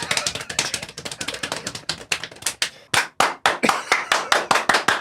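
Hands clap with cupped palms that trap air, giving sharp, hollow pops in a fast run that breaks briefly, then returns as a steadier series of louder, evenly spaced claps.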